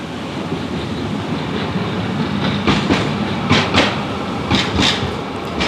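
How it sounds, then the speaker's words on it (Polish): A tram rumbles past steadily, with rhythmic clacks of wheels over rail joints repeating through the passage. "tramwaj."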